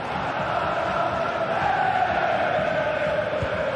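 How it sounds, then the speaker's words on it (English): A large stadium crowd roars and cheers steadily in a football video game, a dense, loud wash of voices that holds throughout without a break. "Well, just listen to this crowd."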